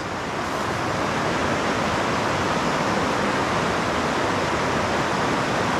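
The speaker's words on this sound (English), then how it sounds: "it's a lot of water and it's moving." Fast-flowing river water, rushing steadily in a dense, unbroken roar of broadband noise that fills the whole stretch with no pauses and no voices over it.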